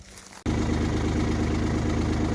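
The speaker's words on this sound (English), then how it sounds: "I'm going to go ahead and start the tractor." A Kubota LX2610 tractor engine catches abruptly after a moment of quiet and settles into a loud, steady, close idle with a rhythmic low throb.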